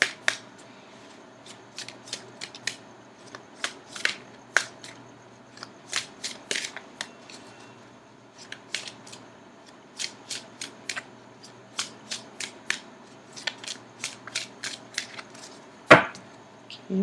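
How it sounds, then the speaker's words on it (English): Tarot cards are shuffled and cut on a quiet surface, giving a close series of crisp riffling flutters and sharp taps, ending with one louder slap of the deck. "I'm going to cut the cards."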